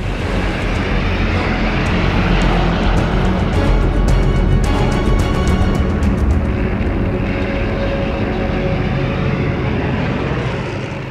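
British and American bomber airplanes fly overhead in a wartime setting, their engines a loud, continuous droning roar that holds steady throughout before easing off slightly at the very end.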